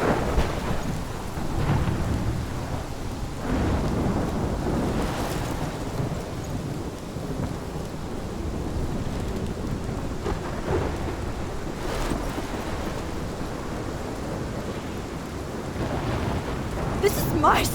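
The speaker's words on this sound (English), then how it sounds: "This is my storm." Thunderstorm with steady heavy rain in the game Life is Strange Remastered, a constant roar of rainfall broken by several rumbling thunder bursts, with a sharper crack near the end.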